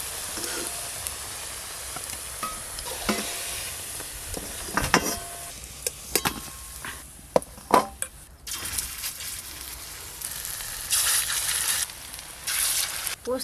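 Poppy seed fritters (posto bora) frying in hot oil give a steady, close sizzle and crackle with short clinks and stirring scrapes. The frying keeps going throughout, with no talking.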